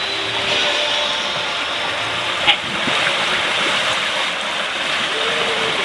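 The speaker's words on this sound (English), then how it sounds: "Running with the waves and the wind, it's beautiful." Sea waves and wind while sailing a boat running before a 7-knot breeze: a steady, loud wash of water and rushing wind that fills the whole stretch, with one brief knock partway through.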